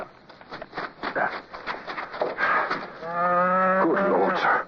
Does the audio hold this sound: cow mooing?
yes